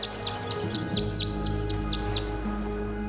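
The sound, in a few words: birds singing at a bird bath in the video game Tangle Tower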